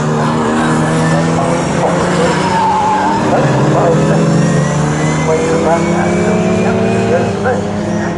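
Hillman Imp touring cars, pre-1966, race at Snetterton circuit with a continuous loud engine drone, whining gears and tyre squeal, while a commentator talks over the racing throughout.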